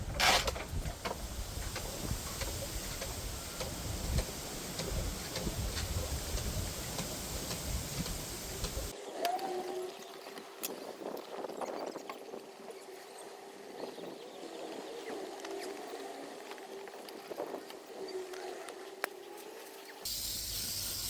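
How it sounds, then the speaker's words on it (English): A backpack pump sprayer used on a home lawn gives a steady, fairly loud spray hiss for the first half, then a quieter stretch of intermittent pumping clicks and squeaks close by. "as you walk, you keep pumping this to maintain the pressure in the back of the sprayer"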